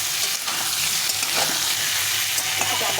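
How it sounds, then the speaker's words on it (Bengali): Salt and turmeric sizzle in a little oil in a pan while being fried for a hilsa fish curry with potato and eggplant, with a steady, close frying hiss and occasional stirring scrapes throughout. "এখানে সামান্য পরিমাণে লবণ আর একটু হলুদ দিয়ে একটু ভেজে নেব"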